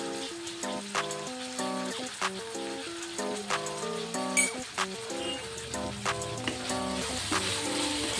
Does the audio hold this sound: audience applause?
no